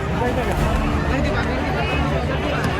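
Crowd of people gathering at a bus stop during a night pilgrimage around Brahmagiri mountain, dense close babble of many voices and shuffling footsteps, busy and continuous with no single clear speaker.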